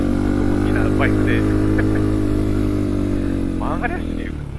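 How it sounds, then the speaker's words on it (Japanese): Kawasaki KLX125 motorcycle engine droning loud and close while riding through the Izu countryside, a steady buzzing tone throughout, with riders' voices breaking in briefly over it. "非常に大きなバイクで"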